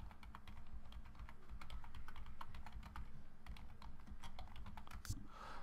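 Rapid typing on a computer keyboard during a Sims 3 game session, with quick, irregular clicky keystrokes heard close and alone at a moderate level.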